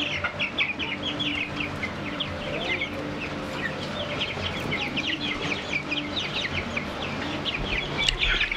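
Organic broiler chickens about three weeks old clucking and peeping in a crowded flock, a busy, continuous chorus of short calls at close range over a steady background hum.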